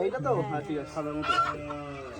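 Native village chickens cluck close by in a short, busy run of calls.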